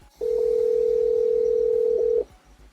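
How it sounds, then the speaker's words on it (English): A phone call's ringing tone: one steady, loud electronic beep lasting about two seconds, heard close and alone with no talk over it. "Let me call Ivan."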